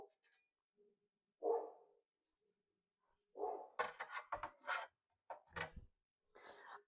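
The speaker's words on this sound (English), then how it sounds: "That's the outside dog." A dog barks outdoors a few times, the barks short and muffled at a distance against a quiet background, along with some soft handling noises.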